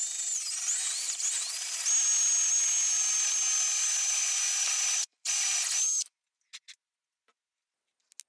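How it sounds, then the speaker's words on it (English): A step drill bores all the way through a hole for a switch during restoration of a 1946 Craftsman 283.1843 paint sprayer, giving a loud, steady high-pitched grinding whine that cuts off abruptly, followed by a few short scrapes and clicks. "To do that, we're going to use a step drill."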